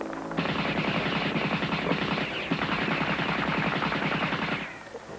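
Rapid bursts of automatic gunfire rattle continuously for several seconds, loud and close, then cut off abruptly.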